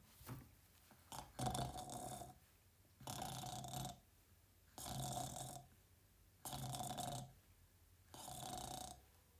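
A person imitates loud snoring, five long rasping breaths in a slow steady rhythm, close to the microphone with no talking.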